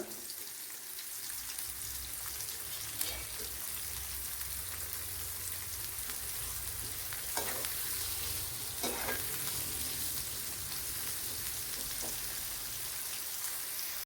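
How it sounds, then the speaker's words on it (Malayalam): Sliced onion sizzles in hot oil in a pan, a loud, continuous crackling fry with occasional stirring scrapes and clinks, no voices. "ഇവിടെ ഓയിൽ ചൂടായിട്ടുണ്ട്, ഇതിലേക്ക് ചേർത്ത് കൊടുത്തൊന്ന് ഫ്രൈ ചെയ്തെടുക്കണം"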